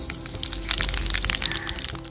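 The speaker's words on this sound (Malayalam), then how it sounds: "കടുക് പൊട്ടി കഴിഞ്ഞു" Mustard seeds crackle and pop in hot coconut oil over a wood-fired stove. The sharp pops are dense and irregular, close by and fairly quiet, with no talking.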